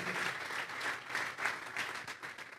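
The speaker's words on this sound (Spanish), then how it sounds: "Vamos a darle una ofrenda de palmas a Dios en esta hora." A congregation at a Spanish-language church service applauds in a steady wash of hand claps. The clapping swells and dips slightly over nearly three seconds, with no voices over it.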